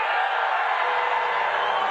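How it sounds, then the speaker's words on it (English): A large crowd at the Libertarian convention boos and shouts as Donald Trump is introduced, a loud, continuous wash of voices with no break. "People are already booing."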